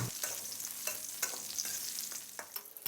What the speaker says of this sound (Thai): แล้วก็ให้เราคั่วทุกอย่างให้สุกดีเลยนะครับ